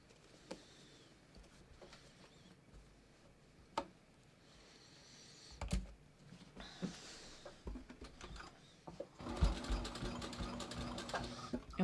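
A sewing machine stitches a seam close to the edge of denim jeans, with a close mechanical whir and clatter that builds into a steady run toward the end, with scattered clicks and handling knocks along the way.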